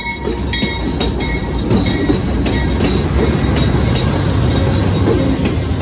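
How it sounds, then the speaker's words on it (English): The Silver Meteor passenger train 174 sits at the Savannah, Georgia station, giving off a loud, steady rumble with faint clanks and a high whine above, close by with no talking. "And this is the train. The Silver Meteor"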